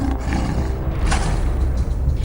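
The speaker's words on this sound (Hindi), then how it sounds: "धड़कन रोक देने वाली शेरों की आवाज किसी के भी होश उड़ाने के लिए काफी है।" Deep, continuous roaring from lions in a Gujarat forest, loud and near, with low rumbling swells and no voices over it.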